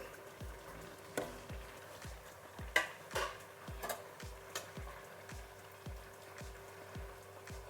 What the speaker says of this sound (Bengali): এখন দিয়ে দেবো মাছ। মাছগুলো সব সাজিয়ে দিয়ে দিচ্ছি।